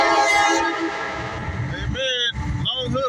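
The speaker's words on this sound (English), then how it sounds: "We got a train coming, folks." Southbound CSX mixed freight train passing close by, with a rumbling rail roar and loud blasts of its multi-tone horn, while someone talks.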